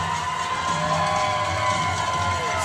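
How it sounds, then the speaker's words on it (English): Fans at a Port Huron hockey game in McMorran Place cheer loudly and continuously, with whoops and high-pitched shouts riding on top of a full, sustained arena roar. "Crowd getting loud here at McMorrin Place"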